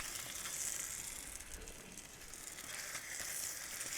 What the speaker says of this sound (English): A couple tablespoons of butter. Down go the onions.